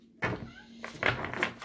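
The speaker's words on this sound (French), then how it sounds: "Oui, mon petit chat. Attends." A pet cat gives a short, close meow, followed by a few soft knocks and rustles nearby in a quiet room.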